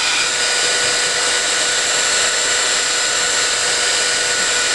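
A blow dryer or embossing gun heating HTV vinyl gives a steady, continuous broadband whir with a constant airy hiss, loud and close, running alone without pause.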